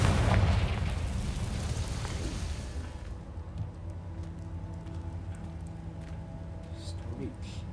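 A Confringo fire spell explodes in Hogwarts Legacy with a loud, broad boom that rumbles and fades over about three seconds, then gives way to quieter game ambience with faint crackles.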